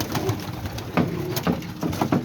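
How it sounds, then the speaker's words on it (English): White pigeons cooing close by: soft, repeated throaty coos in an uneven rhythm, loud and near, with no talking. "And then over here, my other white pigeons."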